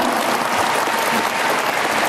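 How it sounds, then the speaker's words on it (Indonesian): An audience claps loudly and steadily, a dense wash of applause that fills the whole moment without pause. "Tepuk tangannya dong."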